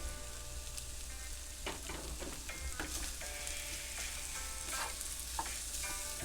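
Potatoes and onions fry in a pan with a steady low sizzle, while a spatula scrapes and stirs in scattered strokes close by, with no voices.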